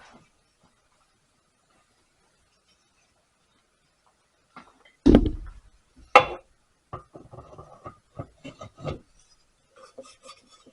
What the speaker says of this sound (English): Tap the flywheel key back.